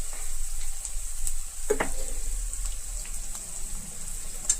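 Chili powder masala frying in a pan for palm fruit masala, a steady close hiss of sizzling oil with occasional soft stirring clicks, no voices.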